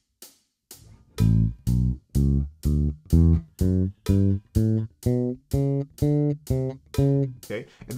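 Electric bass finger exercise played at a doubled rhythm, a steady run of evenly spaced plucked notes, about two per second, close and clear with no talking over it.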